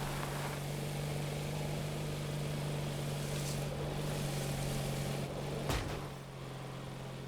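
Steady droning engine hum from newly added engine blocks in the video game Trailmakers, with a constant low tonal whine and a brief sharp transient near the end, no talking.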